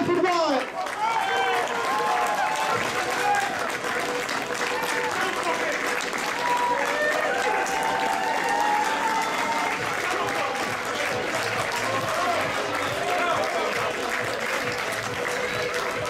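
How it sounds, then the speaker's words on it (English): Spectators at an evening cup final applaud the two finalist teams, with sustained crowd clapping and scattered cheers while voices carry through the noise. "round of applause for your finalists this evening"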